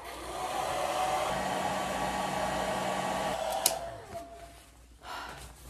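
A blow dryer dries hair with a steady close whooshing roar that cuts off partway through, followed by rustling and faint handling noises.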